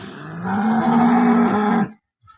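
Cows in a Gujarati cattle shed, one a newly calved cow and one pregnant, give a single loud, close moo lasting nearly two seconds and ending abruptly, followed by near silence.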